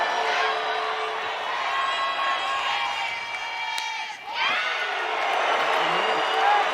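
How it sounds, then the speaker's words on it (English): A softball crowd at a Washington vs Stanford women's game erupts after a hit by pitch, loud sustained cheering and whooping with a brief dip before swelling again. "That's the loudest cheering I think I've heard for a hit by pitch from a team this season"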